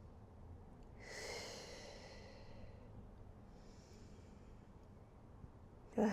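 Slow, soft breathing during a somatic Pilates session: one fuller, airy exhale early on and a fainter breath later, close and quiet, with no talking.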